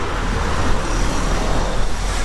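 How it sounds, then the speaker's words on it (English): Steady traffic roar of buses driving past at CERN, a continuous broadband rumble with no pauses, loud and close. "It's the CERN buses flying actually, Jose."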